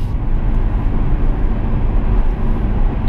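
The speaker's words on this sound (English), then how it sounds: "So that was a TDF, just went past us." A Ferrari TDF drives past on a public road, heard as a continuous, loud, low rumbling rush of engine and road noise that holds steady across the moment without clear rise or fall.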